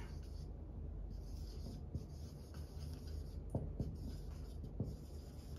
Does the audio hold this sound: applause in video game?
no